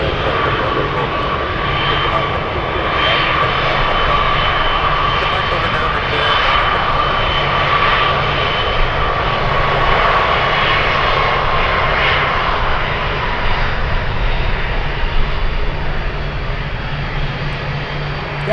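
Boeing 747 Dreamlifter cargo jet engines roaring steadily while taxiing at Anchorage airport, a loud, continuous broadband drone with a sustained whine, heard up close throughout.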